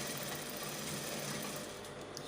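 A sewing machine runs steadily while stitching a garment's side seam, a close, continuous whirring buzz at an even level for the whole stretch.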